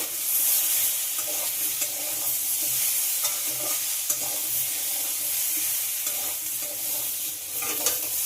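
Potato curry with tomato fries in a pan and is stirred now and then, a close, steady sizzle with repeated scraping strokes of a spoon against the pan bottom.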